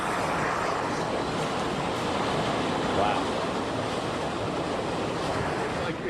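Strong storm wind roaring in a steady loud rush with a faint exclamation over it partway through.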